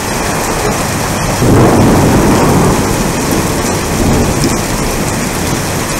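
Heavy rain hisses steadily through a summer thunderstorm near Aurillac, France, and a loud, rolling rumble of thunder swells partway through, then slowly fades back into the downpour.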